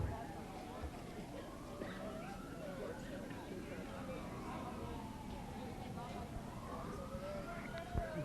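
Distant sirens from a passing parade on Maple Street in Rouses Point wail with slowly rising and falling tones, faint under background noise and murmuring voices.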